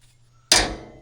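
Hammer striking metal in a truck shop, one sharp close clang that rings and decays over half a second after a quiet stretch, no talk.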